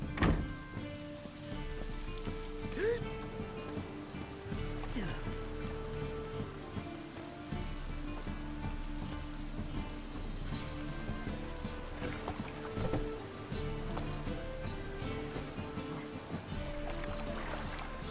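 Steady rain falls in The Witcher 3, a continuous patter over a low ambient game drone with faint tonal music, lasting throughout with no talk.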